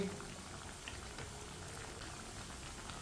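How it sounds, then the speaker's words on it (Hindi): Aloo tikki potato patties cook in a pan over a medium flame, giving a soft, steady sizzle and crackle with faint scattered pops, low in level and without talk. "टिक्कियों को हम तकरीबन मीडियम आंच पे 2 मिनट तक पका लेंगे।"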